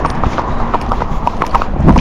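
Hooves of a trotty Rocky Mountain gaited horse under a rider, a steady close rhythm of firm clip-clop hoofbeats at a quick even pace.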